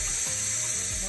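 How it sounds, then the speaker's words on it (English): Cold tap water runs steadily over boiled pigtails in a sink, a loud, continuous rushing close by that fills the whole moment. "I'm going to go ahead and shock it with some cold water just to bring it back down to room temperature."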